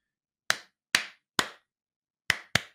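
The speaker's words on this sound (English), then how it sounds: "Clap." Hands clap five times, each a crisp, close slap with a short decay, the first three evenly spaced, then a pause before two quick final claps, with silence in between.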